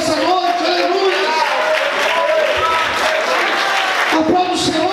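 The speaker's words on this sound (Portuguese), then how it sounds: "você pode aplaudir e exaltar o Senhor nessa noite" A church congregation applauds in praise, a steady wash of clapping and crowd noise running throughout, with tonal music or voices layered underneath.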